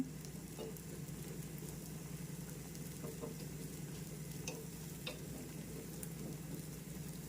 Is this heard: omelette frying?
yes